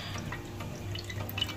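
Blended pomegranate juice poured into coconut milk, a soft continuous liquid trickle and splash, close and steady throughout with faint background hiss.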